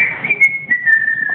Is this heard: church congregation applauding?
no